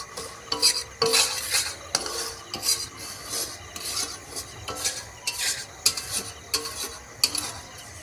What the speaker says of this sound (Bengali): প্রথমে সুজি দিয়ে নাড়াচাড়া করতে হবে যাতে না সুজিটা পুড়ে যায়